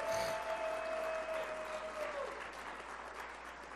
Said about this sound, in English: Let's give our presenters from last night a big round of applause.